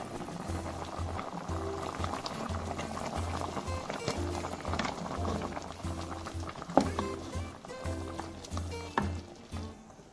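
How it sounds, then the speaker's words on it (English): Ogbono soup with meat bubbles and patters continuously in a pot, a close, busy simmer with occasional louder pops and faint background noise. "So I'm gonna leave this to boil for about 2 minutes before I add my fish"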